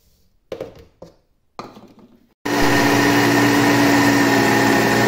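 After a few short taps and knocks, a kitchen blender starts and runs loud and steady, mixing eggs, butter, water, cocoa and sugar with a constant whirring drone to the end.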